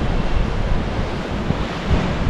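Indian Ocean surf rolls against the shore beside the old Portuguese fort at Diu, a loud, continuous wash of waves mixed with heavy wind buffeting the microphone, with no one talking.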